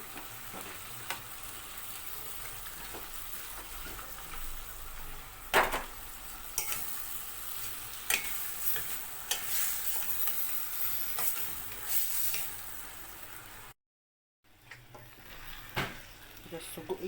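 Sausages fry in a pan, a soft steady sizzle with intermittent stirring clicks and utensil scrapes against the pan, faint and close, with a brief gap of silence near the end.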